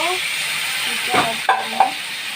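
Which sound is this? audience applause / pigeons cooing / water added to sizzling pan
water added to sizzling pan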